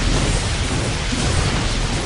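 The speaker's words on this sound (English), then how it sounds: "He's getting attacked by cannons." Cannon fire and explosions pounding units in a StarCraft 2 Protoss versus Terran match, a dense, continuous roar of blasts and bursts filling the whole moment, loud and without pauses.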